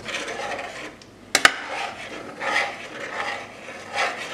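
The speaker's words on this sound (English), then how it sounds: "So give this a good stir" A spoon stirs coconut milk chicken satay curry in a pot, giving soft rasping scrapes with a couple of sharp metallic clinks near the middle, all close and fairly quiet.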